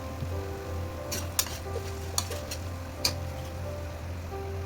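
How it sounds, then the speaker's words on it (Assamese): Oil sizzles steadily in a pan while ingredients for a ridge gourd and fish curry fry, with a few sharp metallic clinks of stirring over the continuous crackle. "আকৌ 2 মিনিট ভাজি ল'ম"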